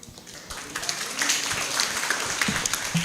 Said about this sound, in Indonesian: Tepuk tangan lagi, yang paling keras lagi